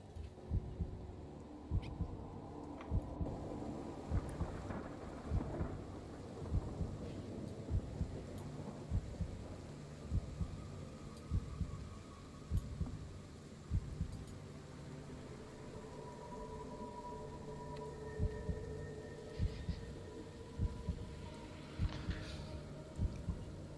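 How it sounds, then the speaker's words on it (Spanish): Steady, faint heartbeat effect thumping in regular pairs under a low rumbling thunderstorm ambience, played as background during a tabletop horror game session. "el latido me está poniendo nervioso"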